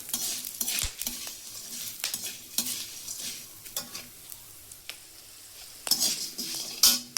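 Masala fries in oil in a pan, a steady soft sizzle broken by repeated scrapes and clinks of a spoon stirring against the metal at an uneven rhythm.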